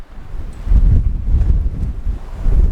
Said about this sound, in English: It's all windy.